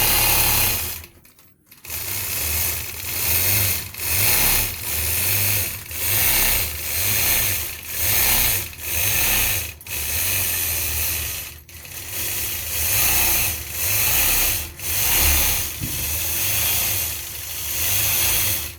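A sewing machine machine-quilting fabric hums steadily, pulsing in regular surges roughly once a second with brief pauses between runs, close and loud with no talk.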